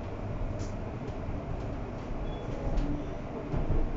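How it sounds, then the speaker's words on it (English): London Overground train on the Chingford branch heading to Liverpool Street, a steady rumbling interior ride with continuous low wheel and track noise that swells slightly now and then, heard alone without talk. "This is the train to Liverpool Street."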